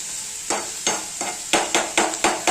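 Onion frying in a pan until brown, with a spoon scraping and stirring in regular strokes over a steady sizzle, close and clear with no talk.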